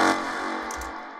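A melodic techno synth stab with added reverb, turned down in volume, gives one soft, washed chord that decays and sits set back and fairly quiet.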